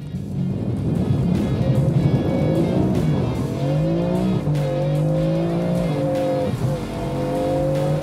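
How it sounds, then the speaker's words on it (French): A BMW M4 F82 does a launch control standing start on an airfield runway, the engine revving hard and climbing through gears with rising pitch and brief tire squeal, loud and close throughout. "on va se faire un petit départ arrêté les amis avec la M4 F82. Voilà les gars, départ launch control"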